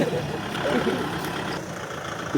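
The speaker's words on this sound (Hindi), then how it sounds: "राजपाल भाई ने निकाल लिया ट्रैक्टर" A tractor engine runs steadily in a village setting, a continuous low rumble that holds at a fairly even level throughout with no talking.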